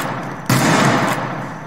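A Winchester rifle fires once in the Roblox game The Wild West, a single loud, sharp shot with a short decaying tail, heard alone.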